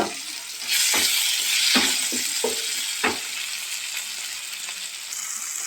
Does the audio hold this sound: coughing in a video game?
no